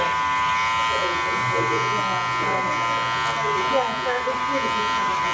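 Electric hair clippers buzz in a steady, close hum during a men's haircut, and someone talks over them throughout.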